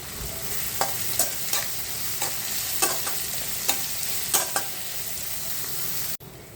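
Chopped onions fry with salt in a hot pan, a steady close sizzle broken by repeated scraping strokes of a spoon stirring them, with no voice over it.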